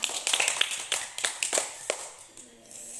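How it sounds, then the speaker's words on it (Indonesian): A small group at a home teaching session claps briefly. The claps are quiet, sparse and uneven, coming as separate bursts before fading into near silence. "Tepuk tangan"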